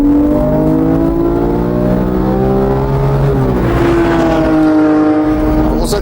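A Porsche engine with titanium conrods revs hard on a racing track, loud and close from inside the car. The steady, rising engine note shifts pitch as the gears change, and a voice talks over it.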